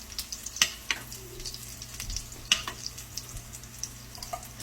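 A gram flour crepe sizzles softly in clarified butter in a pan, with light crackles and a few sharper taps from a utensil over a low steady fry.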